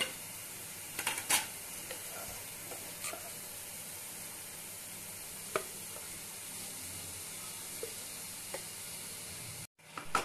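Cooked rice being mixed into vegetables frying in a pan for fried rice, giving a quiet steady sizzle with a few soft stirring scrapes and clinks, no talking.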